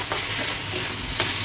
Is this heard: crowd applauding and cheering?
no